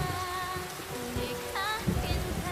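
Steady rain falls in a continuous wash, with faint tonal music-like traces drifting above it and no voices.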